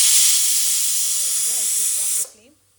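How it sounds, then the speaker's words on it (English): Pressure cooker on a stove boiling dal, venting a loud steady hiss of steam that cuts off abruptly near the end, with faint speech underneath. "the pressure pan has given 12 whistles already, or 11 whistles"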